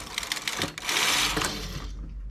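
A knitting machine carriage runs along the needle bed in a Portuguese cable-versus-jacquard stitch session, giving a close mechanical clatter with rapid ticks, then a sustained whirring rush that fades out at the end.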